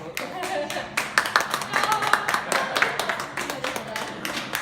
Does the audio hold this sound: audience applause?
yes